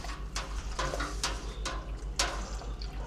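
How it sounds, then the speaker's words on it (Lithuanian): Liquid is poured and stirred in a beer brewing pot where malt is being dissolved with help from a pump. Repeated splashy swishes sound over a steady low electrical hum. "Pilam, maišom."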